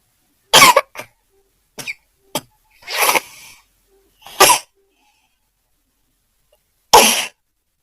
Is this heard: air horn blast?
no